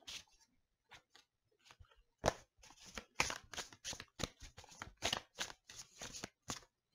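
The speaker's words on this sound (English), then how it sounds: "the cards are so difficult to shuffle" Large, unwieldy tarot cards being shuffled by hand in bursts of riffling and sliding, quiet at first and then a dense run of loud, close shuffles separated by short pauses, with no voice.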